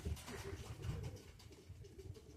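Pigeons at a loft in autumn coo softly in low, rolling murmurs, a few overlapping calls close by against a quiet background.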